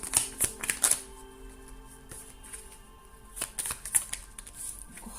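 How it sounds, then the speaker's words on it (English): Tarot cards shuffled and drawn at close range: quick riffling flutters at the start and again near the end, with softer card slides between them and no speech. "Let's draw your Mercury retrograde cards"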